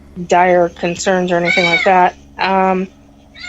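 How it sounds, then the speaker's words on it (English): A house cat meows several times close by in drawn-out, rising and falling calls, overlapping a person talking. "Excuse the background noise with the cat."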